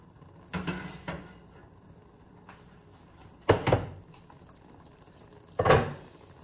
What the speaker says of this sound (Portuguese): Depois da massa quase cozida, eu vou escorrer a água.